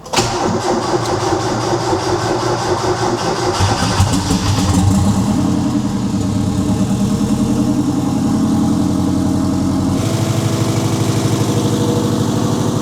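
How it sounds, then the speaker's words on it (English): Mazda Miata fitted with a Subaru engine cranks and fires, then settles into a loud, steady, lumpy idle rumble close by with no talking. "Oh, it definitely has a Subi rumble."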